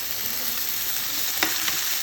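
Pieces of beef liver sizzle and fry in a pan of cooked-down spiced masala, a steady hissing crackle with a couple of brief stirring knocks near the end, no voices.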